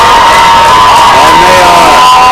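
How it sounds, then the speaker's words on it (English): A crowd at a high school hockey game between Arapahoe and Littleton cheers and whoops loudly as a player leaves the ice, a dense, roaring din with shouts and a tonal hum under it. "Hopefully everyone gives Brian a round of applause on the way out."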